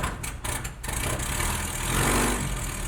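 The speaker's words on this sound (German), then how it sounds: "die Motoren ab und zu kurz anzulassen" A classic car engine in a technology museum exhibition is briefly started and settles into a steady, close idle, with a few sharp clanks at the start.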